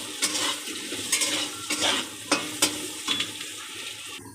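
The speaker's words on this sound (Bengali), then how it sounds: "এর নাড়াচাড়া দিয়ে মিশিয়ে নেব।" Potatoes and prawns with turmeric being stirred in a pan, a spatula scraping and knocking in irregular bursts over a soft sizzle of frying, close and fairly loud.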